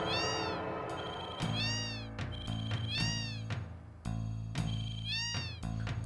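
A glitching cat meow from Final Fantasy VII, the same synthetic meow repeating in stuttering, abruptly cut bursts about every second over looping game music.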